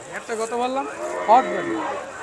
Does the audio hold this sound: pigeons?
no